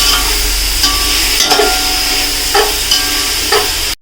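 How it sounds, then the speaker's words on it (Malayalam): Onions sautéing in a pan for chicken biryani masala: a loud, steady frying hiss with periodic scraping stirs about once a second, ending abruptly. "അവിടെ സവാള വഴറ്റുന്നുണ്ട്"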